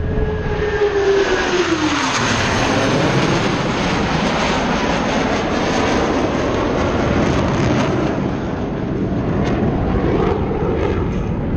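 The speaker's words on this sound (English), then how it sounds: "Each pilot will perform an individual brake turn and exit the flight line in a separate direction." Airshow jets carry out individual break turns and peel away from the flight line, a loud sustained engine roar with a falling whine early on, steady and unbroken throughout.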